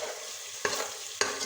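Spice masala being stir-fried (bhuna) in a pan for mash daal, a steady quiet sizzle with two sharp scrapes of a spoon against the pan, no voices.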